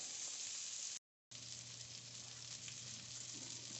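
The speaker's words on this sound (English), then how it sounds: "they're gonna cook like this, and I'll move them around after they get a little brown on that one side" Home fries potatoes sizzle in a pan, a steady soft frying crackle with a brief dropout of silence near the start, no talk.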